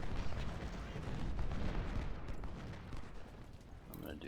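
Dense, continuous gunfire and artillery rumble from a Civil War battle game at Malvern Hill, skirmishers under fire from several sides, a loud sustained din of overlapping shots.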